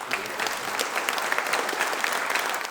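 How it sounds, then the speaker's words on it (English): A room of guests at a Selous Scouts 50th anniversary and memorial unveiling ceremony gives a sustained round of applause. Dense clapping stays steady and fairly loud throughout. "Round of applause for them, please."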